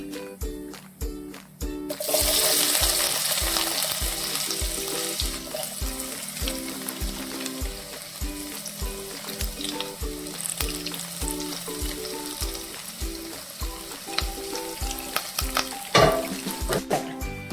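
Chopped garlic, ginger and green chilies hit hot oil in a pan for mango pickle, bursting into a loud steady sizzle that continues throughout, with a rhythmic background knocking and occasional stirring clinks.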